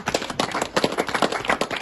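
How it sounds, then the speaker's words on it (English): An audience of councillors and public at a council budget session claps together, a brief burst of quick, uneven hand claps that sound close and fairly soft. "Can we clap for Paul Biya?"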